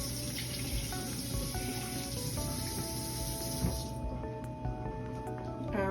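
Warm water poured from a measuring cup into chocolate cake batter, a steady continuous splashing pour that runs for several seconds, then tapers off into a few faint drips and clinks.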